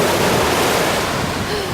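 Ocean waves at a beach roll in as a loud, continuous hissing wash of surf with wind buffeting the microphone.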